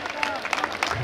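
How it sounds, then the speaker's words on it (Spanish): Rodeo crowd applauding at a bull-riding event in Michoacán, a brief burst of clapping and cheering mixed with a voice over a loudspeaker. "Regálemeles fuerte el aplauso, que se oiga"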